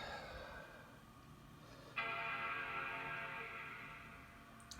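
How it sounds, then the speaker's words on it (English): A 2010 Mac Pro plays its startup chime at power-on. The single loud, bright tone starts abruptly partway through, then rings and slowly fades over a faint background hum, with no talking. "there's the chime"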